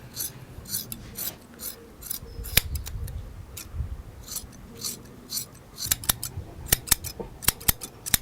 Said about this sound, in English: Put the scissors in.